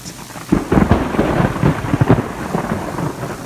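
Rolling thunder from a lightning storm over a meadow along the Appalachian Trail near humming power lines, booming in repeated loud, close rumbles against steady background rain.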